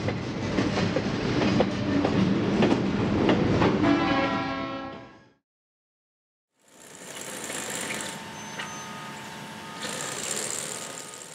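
A railroad train of rail cars that is nearly empty and carries welded rail rolls past with rumbling and clatter. The sound cuts out briefly, then returns as a steadier, quieter rolling rumble.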